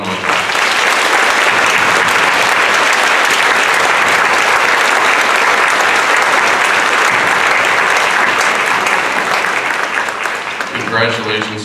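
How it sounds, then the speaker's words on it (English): Loud, sustained crowd applause at a school 5th grade moving-up ceremony honoring student instrumentalists, steady clapping close and full for about eleven seconds before fading, with a voice beginning at the end. "And let's give them a big round of applause."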